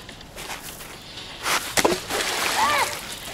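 A splash from someone diving into water on a summer holiday outing, one sharp watery burst followed by sloshing, heard close amid faint outdoor ambience.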